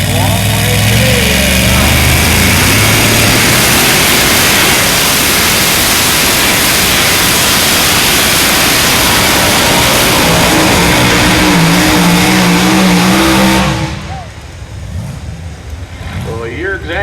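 Truck pull with the pulling truck "Storm Warning" roaring loud and sustained at full power for about thirteen seconds under a crowd and announcer, then cutting off abruptly, leaving quieter background noise.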